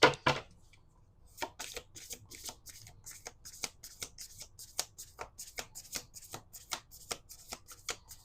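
Oracle cards being shuffled by hand, a quick run of soft riffling clicks and card slaps up close, fairly quiet, after a brief handling noise at the start, with no talk.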